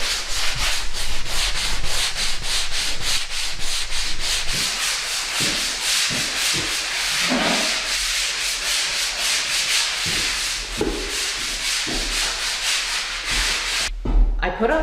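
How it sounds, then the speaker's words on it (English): Dried all-purpose joint compound being sanded by hand, a steady run of rapid scratchy strokes that stays close and loud throughout, with a few soft knocks and no talk. "I put on the joint compound, let it dry for 24 hours, and then I come back and I sand it"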